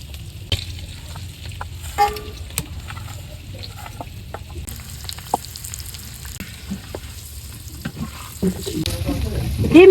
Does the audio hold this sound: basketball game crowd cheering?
no